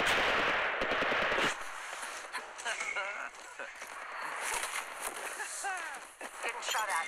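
Rapid automatic gunfire in the mobile shooter Apex Legends Mobile, bursts of rattling shots close and loud, mixed with footsteps and in-game voice callouts.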